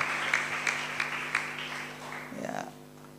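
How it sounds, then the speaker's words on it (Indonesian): Worshippers at a church service give a round of applause, scattered hand claps rising and falling while a voice talks over them near the end. "Beri tepuk tangan yang terbaik buat Tuhan."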